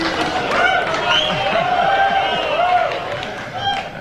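A comedy-show studio audience gives a mixed reaction, with murmuring, groaning voices and scattered claps rising together in a loud, steady swell for a few seconds.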